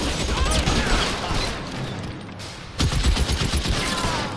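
Military weapons firing in L.A. Noire: loud, sustained automatic gunfire rattles continuously, with a brief lull before another burst.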